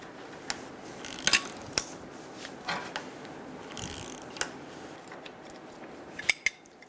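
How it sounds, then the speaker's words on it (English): A wrench works a strut mount nut off a 2000–2007 Ford Focus front strut while a 9mm socket holds the shaft, giving sparse metallic clicks and ratcheting ticks, close and fairly quiet, with no talking. "I'm using a 9mm socket to hold the top of the strut pole while I use the wrench to take it"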